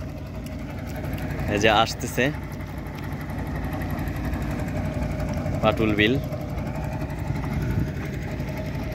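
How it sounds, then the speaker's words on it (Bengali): A motorboat engine hums steadily on Patul beel in Naldanga, Natore, a low continuous drone under someone speaking nearby. "এই যে দর্শক, নৌকা যাচ্ছে"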